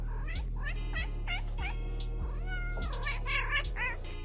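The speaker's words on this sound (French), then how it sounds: "Maintenant, regardez tous ces chats." Many cats meow over one another, a busy overlapping chorus of rising and falling cries, some drawn-out and wailing, over a low steady hum, close and clear with no talk.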